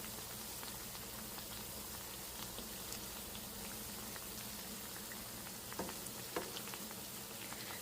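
Bread slices fry in hot oil in a pan for a homemade double ka meetha dessert, a soft continuous bubbling sizzle with occasional faint pops, quiet and close.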